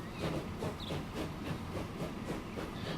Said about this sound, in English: once we've witnessed the majesty of our new steam train